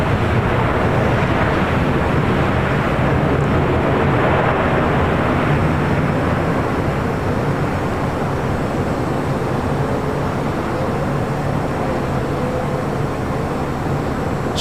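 An American Airlines jet rolls for takeoff on runway 25 right at LAX, a steady, loud broadband engine roar with wind buffeting the microphone, holding even throughout with no voices.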